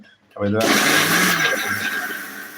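A mixer grinder starts abruptly after a moment of quiet and runs with a loud, steady whirring roar, while a person talks at the start.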